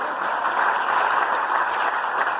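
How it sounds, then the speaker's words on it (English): At a school district board meeting, a crowd's round of applause fills the room as a dense, steady wash of clapping, sustained evenly for a couple of seconds with no speech over it. "One more round of applause for everyone."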